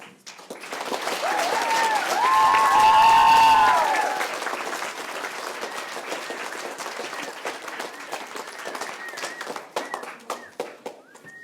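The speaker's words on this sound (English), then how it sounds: "We need to give a big round of applause to the teachers" Sustained audience applause at a school Christmas play, many hands clapping, swelling early then continuing steadily before thinning out toward the end.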